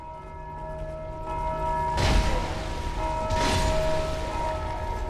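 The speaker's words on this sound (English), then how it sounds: "Does this guy ever freaking stop with the bell?" A bell tolls repeatedly in Dark Souls II: Scholar of the First Sin, its sustained ringing tones layered over heavy game ambience with two loud booming bursts partway through.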